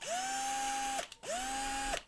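Two whirring bursts from a power drill, each spinning up to a steady high whine for about a second, then winding down and stopping; loud and close, with a brief pause between the runs.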